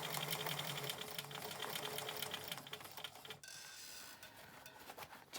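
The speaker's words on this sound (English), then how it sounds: "I'm just going to sew round along the length here." A sewing machine stitches along the edge of a fabric face mask, a fast steady mechanical rattle that runs for a few seconds and then stops, leaving a quiet hum.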